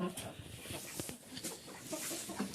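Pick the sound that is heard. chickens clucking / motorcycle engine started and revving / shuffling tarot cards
chickens clucking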